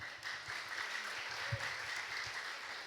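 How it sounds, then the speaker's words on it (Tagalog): Applause from a church congregation at a 32nd anniversary service in Santiago, a steady wash of clapping that holds evenly at moderate volume throughout with no talking over it. "lakasan pa inyong palakpak."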